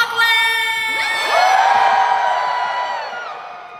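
A large crowd at a concert at Oakland Arena cheers and screams loudly. Many high voices rise and sustain in whoops and shrieks that tail off toward the end.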